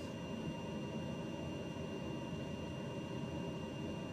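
A TBM 930 turboprop's engine roars at takeoff power in MSFS 2020, a steady broadband rumble with a faint high whine, constant and close throughout.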